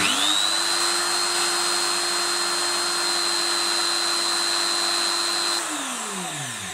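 Electric drill machine running steadily at a high, even whine with a motor hum, close and loud, then spinning down as it shuts off automatically when the current rises too high.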